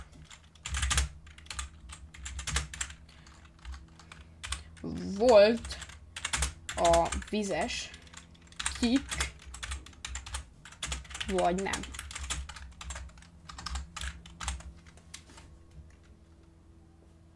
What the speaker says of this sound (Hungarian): de fura így gépelni amúgy